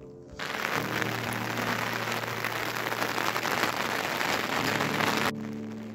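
Heavy rain falls in a forest near mountain caves, a dense, loud, steady hiss of drops that starts abruptly, holds for several seconds, then cuts off.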